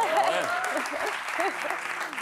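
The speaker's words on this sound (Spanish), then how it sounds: "se ha levantado también aplauso de los veganos entre el público" A studio audience at a Spanish late-night talk show bursts into steady, close applause, with a voice talking over the clapping throughout.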